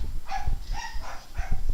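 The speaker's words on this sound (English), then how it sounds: "stupid dogs" A dog barks three times in a quick, evenly spaced series, the sharp yips sounding fairly close but moderately quiet over a low background rumble.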